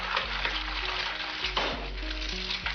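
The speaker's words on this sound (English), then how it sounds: "just like that sizzling egg in the pan" An egg fries in a hot pan with a steady, dense sizzle and crackle that runs throughout, close and fairly loud.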